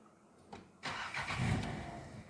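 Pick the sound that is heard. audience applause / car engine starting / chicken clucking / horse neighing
car engine starting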